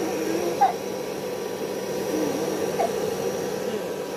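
A hair dryer runs steadily to dry a girl's hair indoors, a continuous mid-level blowing hum throughout with a couple of faint brief vocal sounds over it.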